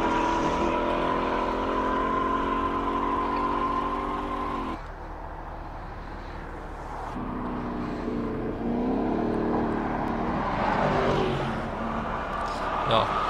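A powerful 500-kilowatt four-cylinder race car runs the Simola hillclimb circuit, its engine droning with steady harmonics, then dropping off and building again with rising revs, heard under a commentator's continuous talk.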